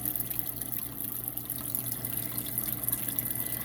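A Marineland filter runs in a 55-gallon turtle tank, giving off a steady, continuous hiss of moving water with a low hum underneath. It sounds close and holds an even level throughout, and no voices are heard.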